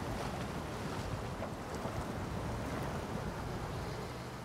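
A heavy truck in the off-road video game SnowRunner churns through water, giving a steady, dense rushing wash with engine rumble underneath, continuous and fairly loud throughout.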